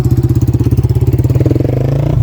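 A motorcycle engine runs loud and close on a narrow road, a fast, steady pulsing chug that rises slightly in pitch as it revs.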